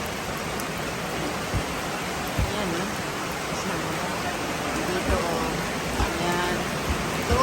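Rain falls steadily as a dense, even hiss on a rural province property, with scattered louder drips and taps landing nearby throughout.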